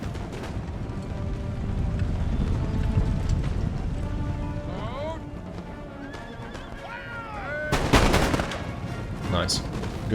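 Musket volley gunfire in Empire: Total War: a crackling burst of shots near the end, set among repeated horse neighs and whinnies and a low battlefield rumble.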